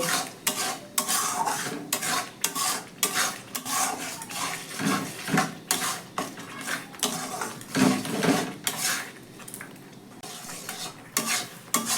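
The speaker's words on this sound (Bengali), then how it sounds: "তো চিনিটা দেওয়ার পর অনবরত নাড়াচাড়া করে আমি কিন্তু চিনিটা গলে যাওয়া পর্যন্ত অপেক্ষা করব" Raw mango and sugar stirred continuously in a pan, a rhythmic series of scraping, clattering strokes of the spoon against the metal over a soft frying sizzle, fairly close and with no talking.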